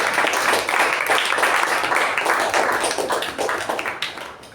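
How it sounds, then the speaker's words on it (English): A Toastmasters club meeting audience applauds its table topics master, a dense, steady wash of clapping lasting several seconds that thins slightly toward the end, fairly loud and close. "A big round of applause to table topic master Sakshi."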